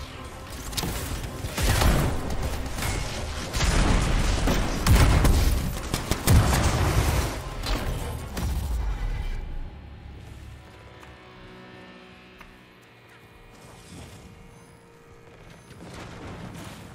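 Heavy gunfire and explosive booms from the sci-fi shooter game Anthem, a dense, loud barrage for about nine seconds that then drops to quieter scattered shots and ambient rumble.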